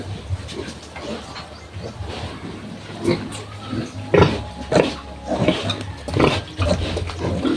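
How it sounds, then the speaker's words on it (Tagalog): A mother pig lies with her newborn piglets, giving low grunts at irregular intervals alongside softer squeals and snuffling from the young, heard close up with steady background noise. "Nag-relax si Mama Pig. Anak po sila"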